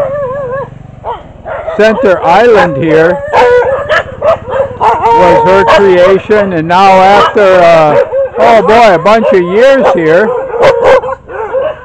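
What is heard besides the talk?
dogs barking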